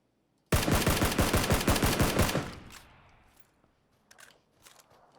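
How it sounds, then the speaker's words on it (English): Rapid automatic gunfire in PLAYERUNKNOWN'S BATTLEGROUNDS, a loud burst of about twenty shots lasting two seconds, then fading echoes and a few faint distant cracks. "we heard shots above us"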